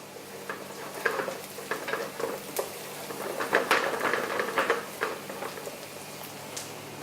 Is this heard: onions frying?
yes